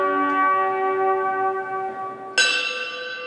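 Bells ring out at a 9/11 memorial service, a sustained sustained harmonic tone fading slowly before a second loud, bright strike at about two and a half seconds, with no talking.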